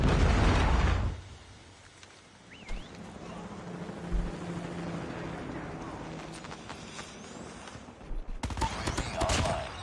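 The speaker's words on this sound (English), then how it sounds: "Predator missile inbound." A loud explosion from a Predator missile strike in a video game opens, followed by scattered gunfire, pops and battlefield clatter at moderate level, with another burst of blasts near the end; people talk over it.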